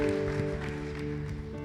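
A church congregation applauds in a brief burst of steady, dense clapping heard close and fairly loud, with a sustained musical drone beneath it.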